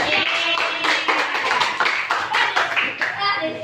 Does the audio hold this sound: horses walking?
no